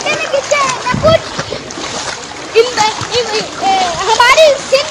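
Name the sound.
rain and floodwater waves in a Karachi street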